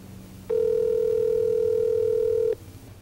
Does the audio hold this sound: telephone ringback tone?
yes